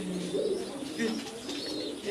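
Pigeons coo in soft, low, throaty rolls, close by and repeating over a couple of seconds against a steady background murmur.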